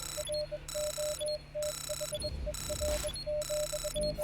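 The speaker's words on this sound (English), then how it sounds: "beeping's really getting annoying" A steady electronic beeping in the Wasted Lands video game, a repeating pattern of short tones in even bursts over a low background rumble, with a brief thud in the middle and no talking.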